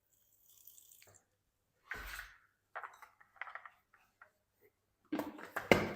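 Water poured into a blender jug with fried onions and almonds for a paste, short splashing and trickling bursts separated by silences, close by, ending in a louder clatter.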